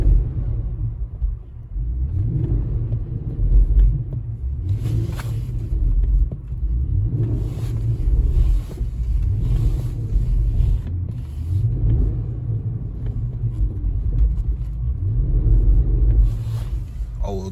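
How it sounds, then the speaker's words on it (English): Infiniti FX50 on bald tires spinning its front axle in deep snow, a steady low engine rumble with rising and falling revs and wheelspin throughout, a voice talking over it at times. "I'm spinning my front axle and not going anywhere"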